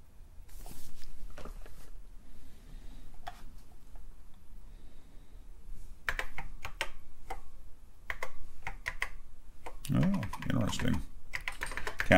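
Keys clacking on a TRS-80 Model I computer keyboard, irregular bursts of close, sharp keystrokes with pauses between them, ending in a busier flurry of typing.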